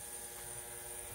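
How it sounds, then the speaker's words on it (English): An ultrasonic cleaner runs while a Parker 51 Aerometric fountain pen nib is serviced, giving a faint, steady electrical hum with a thin high whine that stays constant in the background. "You can hear the ultrasonic running in the background"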